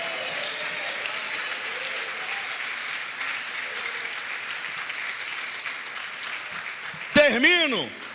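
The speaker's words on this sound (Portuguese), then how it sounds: "libera um brado de vitória e uma salva de palmas para o Senhor" A church congregation in a Brazilian Portuguese-language service applauds with a dense, sustained wash of clapping. A loud voice cries out near the end as the applause swells.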